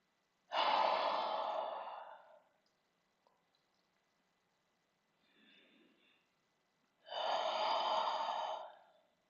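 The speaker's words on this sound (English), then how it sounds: "2 more deep breaths here." Deep breathing during a yoga session: two slow, loud, airy breaths close to the microphone, separated by a quiet pause with a faint softer breath between them.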